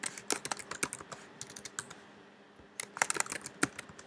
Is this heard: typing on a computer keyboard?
yes